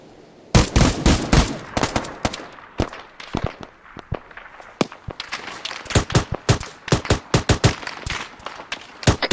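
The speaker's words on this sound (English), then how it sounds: "Shots northeast." Shots ring out in an ArmA 3 military simulation, sharp rifle cracks arriving in quick clusters and scattered single reports, some near and loud, others softer, with no voices.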